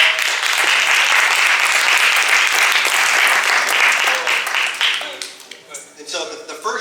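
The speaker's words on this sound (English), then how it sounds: "Can you give a round of applause?" A crowd at a real estate investment summit bursts into dense, loud applause that holds steady for several seconds before thinning out and fading as other sounds creep in near the end.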